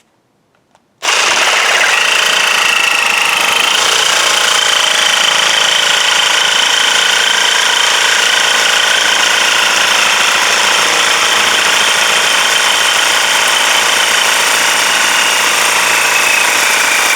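An Evolution R150RCP cordless circular saw cuts straight through metal clamped in a vise. After a second of quiet it starts abruptly into a loud, harsh, sustained high-pitched screech that holds steady and close for the rest of the cut.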